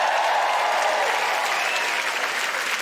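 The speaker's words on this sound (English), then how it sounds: "You might like to give him a round of applause." A live comedy audience at a Sarah Millican show applauds the tour manager, a thick, even roar of clapping with crowd noise, sustained and close throughout.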